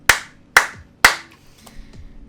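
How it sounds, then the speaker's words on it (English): Three sharp hand claps, evenly spaced about half a second apart, close and loud, each ringing briefly before a quiet rustle at the end. "Clap."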